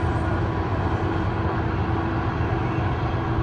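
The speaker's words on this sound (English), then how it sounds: "The noise is a train." A distant train rumbles past in a steady low roar with a slight hum, continuous and unbroken throughout.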